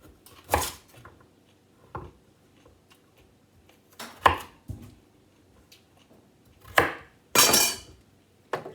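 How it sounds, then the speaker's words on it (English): A knife chops vegetables into matchsticks on a cutting board, giving sparse, irregular close knocks and scrapes with quiet gaps between strokes. "So I'm cutting them like this, like matchsticks."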